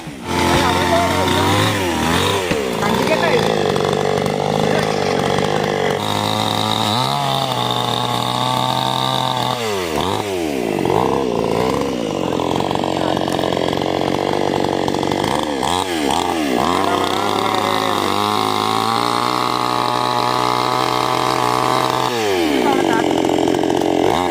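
A chainsaw runs loud and continuously while cutting trees, its engine note rising and dipping as the cuts bite and ease, with brief idle-like drops between cuts.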